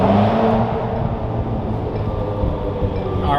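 A dyno-tuned 300 horsepower turbocharged Subaru WRX engine rumbles loud and close, holding a steady, throaty drone with a faint rise in pitch near the end, no voices over it.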